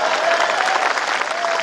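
An audience at a comedy poetry gathering breaks into brief, dense applause, loud and close, sustained evenly for the whole short stretch with a faint voice beneath.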